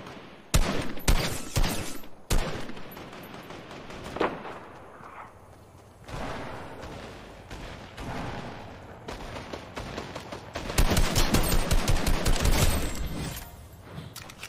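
Rapid bursts of unfamiliar gunfire in the Fortnite video game, loud dense volleys and sharp shots recurring throughout, heaviest near the end.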